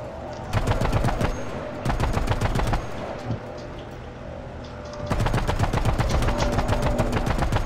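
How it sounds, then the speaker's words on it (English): Bursts of a tank's bow-mounted machine gun firing in a video game, rapid sustained rattling in three long strings separated by short pauses, loud and close. "Oh, I can shoot the bow gun."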